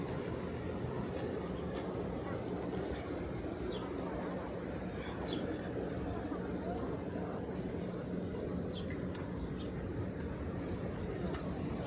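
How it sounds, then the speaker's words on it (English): Air conditioners humming along 31st Avenue in Astoria, Queens, New York City, a steady low drone of units and street noise with faint birds chirping now and then, with no speech over it. "You hear the sounds of air conditioners."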